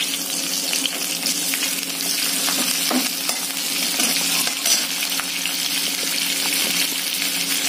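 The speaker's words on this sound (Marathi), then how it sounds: "आता हे चांगलं आपल्याला भाजून घ्यायचं आहे।" Garlic cloves and cumin seeds roasting in a pan hiss with a constant close sizzle, dotted with light taps and scrapes as they are stirred.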